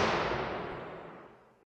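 Impulse response sample for a convolution reverb plugin: a single broadband burst that starts loud and decays smoothly over about a second and a half into silence, with no talk.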